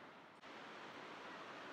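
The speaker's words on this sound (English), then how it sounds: "Check out that waterfall." A waterfall near an old mill in Roswell, Georgia, roars as a steady, broadband rush of falling water, continuous and fairly close, with no talking.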